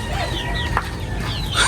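A hen clucks in short, soft bursts over a busy background of farmyard noise, with occasional higher chirps near the end.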